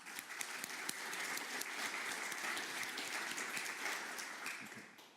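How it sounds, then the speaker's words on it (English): Keynote audience at an open-source QEMU conference applauds steadily throughout, a dense wash of many hands clapping in a large hall, fading slightly at the end. "So some applause for the two of them,"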